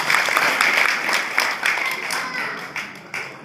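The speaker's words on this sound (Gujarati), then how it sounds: "આપણે બધા એક વખત જોરદાર તાળીઓથી અમે વધાવી લઈએ" A crowd claps together at a women's group gathering in a Ram temple in Viramgam, a dense, lively patter of hands that swells at once and then tapers off slightly.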